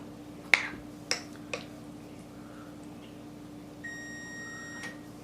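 An oven in a home kitchen, used while making banitsa, gives one steady, clear electronic beep lasting about a second, after a few sharp snapping clicks in an otherwise quiet room.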